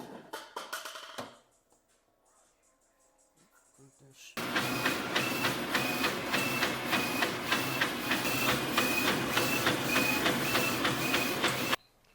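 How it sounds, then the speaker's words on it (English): A DTF printer runs loudly for several seconds with a rhythmic mechanical shuttle clatter and hiss, after a quieter stretch of faint handling clicks at the start. "Let's get back to setting up the DTF printer."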